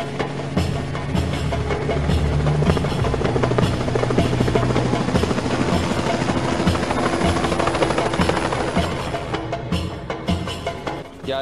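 Helicopter in the GTA 5 video game, a loud, steady rotor roar with continuous chopping and engine drone that fills the whole stretch without a break, close and constant, with no talk over it.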